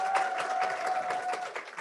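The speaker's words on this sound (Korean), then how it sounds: "다시 한번 박수" An audience at a guest lecture applauds in a steady, moderately loud wash of clapping through the short moment.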